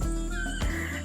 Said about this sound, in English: We're hearing lots of birds, like macaws and toucans